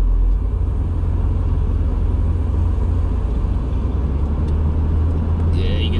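Inside a 1977 BMW 633 CSi on the move, a steady low engine and road rumble drones at close range, with no breaks and only small changes in level.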